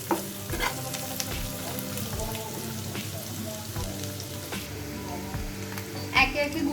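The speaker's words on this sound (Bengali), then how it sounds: "এটা আমি কিছুক্ষণ কষিয়ে নেব," Masala sautéing in a pan for katla fish kofta curry, a steady loud sizzle with frequent stirring scrapes and spatula knocks, continuous throughout.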